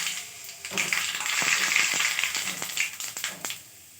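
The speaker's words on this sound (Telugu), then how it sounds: "ఆయిల్ అయితే బాగా వేగిపోయింది అనమాట ఇప్పుడైతే ఇందులో నేను కొంచెం ఆవాలు" Mustard seeds dropped into about three teaspoons of hot oil, a close, bright sizzle that swells quickly and is peppered with sharp popping crackles before fading after a few seconds.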